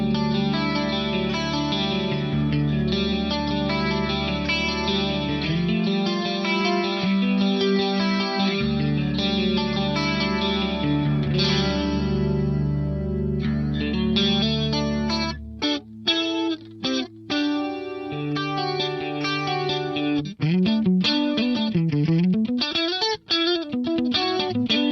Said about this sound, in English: Let's kick in the BBD 320 so that we can hear that glorious, wide, but subtle stereo chorus